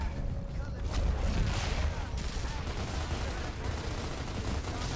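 Rapid gunfire from Gears of War Ultimate Edition, a dense, loud run of overlapping shots and booms filling the whole stretch, with battle noise and a voice talking underneath.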